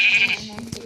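Sheep bleating on a video game farm, a single short nasal bleat up close, heard alone.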